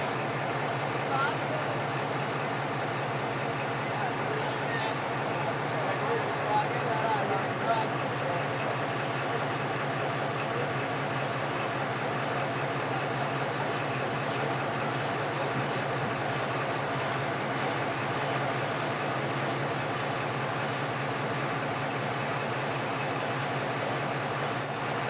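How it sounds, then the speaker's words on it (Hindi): Narowal passenger train, led by a ZCO20 locomotive, arrives on the loop line at Kala Khatai railway station in heavy rain, a steady rumble and rolling rail noise holding even throughout, with voices talking over it. "नारोवाल पैसेंजर भी पहुंच चुकी है काला खटाई के रेलवे स्टेशन पर"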